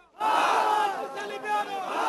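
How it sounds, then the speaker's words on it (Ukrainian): A crowd of demonstrators in Jalalabad, Afghanistan shouts anti-American slogans together, a loud, dense mass of raised voices that surges and holds for a couple of seconds. "Люди вигукували антиамериканські гасла"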